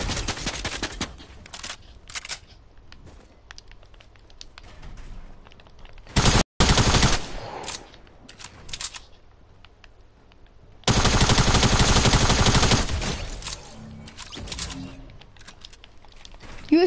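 SCAR rifle fire in a video game rips out in long, loud full-auto bursts with a brief gap between them, mixed with other game noise and some chatter.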